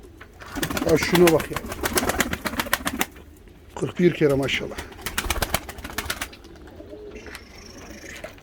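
Ornamental pigeons coo and flutter nearby while someone talks excitedly over them; the bird sounds come in bursts amid wing flaps.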